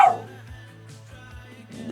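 A dog gives short barks and yips in a home during a darts game, the sharp calls rising at the start and end over a low steady hum.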